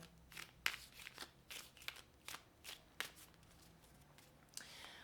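Tarot cards being shuffled by hand during a reading, a quiet run of soft riffling bursts and light flicks spread over several seconds, close and faint with no talking.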